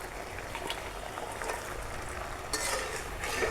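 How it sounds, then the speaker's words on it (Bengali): Fish dropped into spice paste already frying in a pan for a bitter gourd curry, giving a steady close sizzle with brief louder bursts and stirring clinks. "এখন আমি এখানে মাছটা দিব।"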